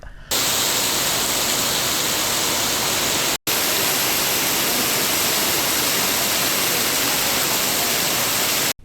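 Heavy rain pours down at a railway platform where passengers stepped off a passenger train, a dense, loud, unbroken roar of falling water that fills the whole stretch with a brief cutout partway through.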